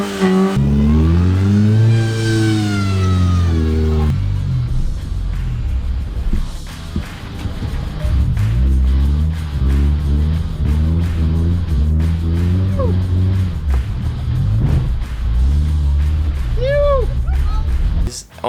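A Mazda 121 Metro small car drives on a beach, its engine loud and close as it revs up and down through several rising and falling surges, with wind rushing throughout.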